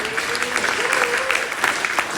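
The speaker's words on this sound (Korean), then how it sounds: "우리 김병만 의원한테 큰 박수를 부탁드립니다." Party members at a campaign disbanding ceremony in Bundang give a lawmaker a big round of applause, loud sustained clapping from a crowd with a voice calling out over it.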